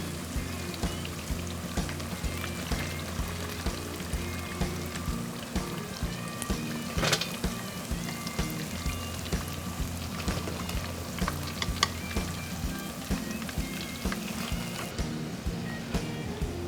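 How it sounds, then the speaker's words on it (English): Steady crackling sizzle of spicy garlic fried chicken frying in hot oil, continuous and fairly close, with a low hum underneath and occasional sharper pops. "while the rest of those are frying over there"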